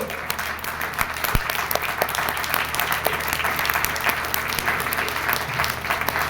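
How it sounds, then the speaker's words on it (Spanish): A church congregation claps loudly and steadily throughout a sermon, dense applause filling the room with no pause. "Dale un aplauso fuerte al Señor."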